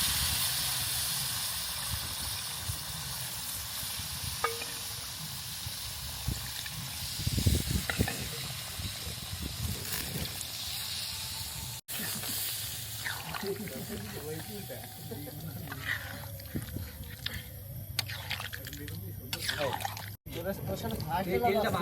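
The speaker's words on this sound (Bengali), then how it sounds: "এবার আমরা ঝোল দিয়ে দেবো।" Broth poured into chicken bhuna cooking in a pan sends up a loud, steady sizzling hiss with bubbling and spattering that surges mid-way and carries on to the end.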